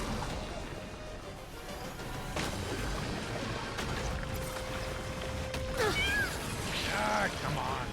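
A cat in Honkai Star Rail meows a few times near the end, over dense game sound and music, with talk heard as well.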